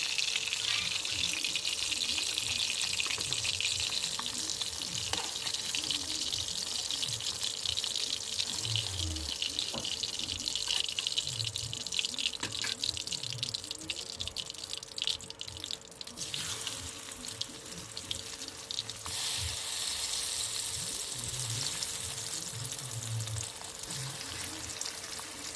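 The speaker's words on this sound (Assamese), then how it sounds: "সেইখিনি তেলতে মই আলুকেইডোখৰ অলপমান ফ্ৰাই কৰি লৈছোঁ।" Potato pieces fry in a pan of leftover oil that was used to fry hilsa fish, giving a steady, dense sizzle and crackle that runs unbroken with no talking.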